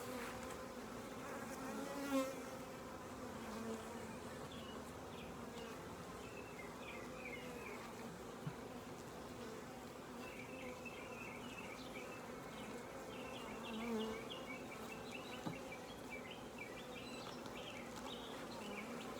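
Honey bees buzz steadily at an open hive during an inspection, with agitated insect drones filling the scene continuously at close range, brief louder passes as individual bees fly near, and no talking.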